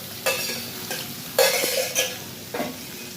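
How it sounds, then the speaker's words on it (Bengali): Soybean chunks fry in oil left over from frying potatoes, a steady close sizzle broken by several scraping stirs of a spatula against the pan, with no talking. "আলু ভাজার ওই তেলটার মধ্যে একটু সয়াবিনটাও ভেজে নেবো"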